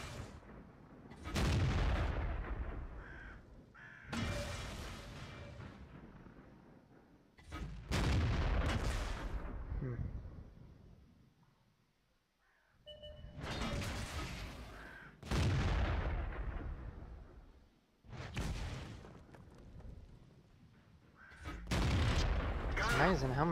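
Tank cannon shots in a tank video game, about seven heavy booming blasts spaced a few seconds apart, each with a sharp onset and a long decaying rumble, loud and near.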